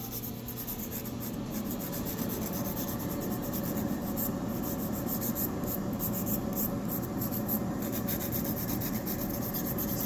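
An electric nail file drill grinds acrylic nails with a continuous close buzzing rasp, steady and even for the whole stretch, with no speech.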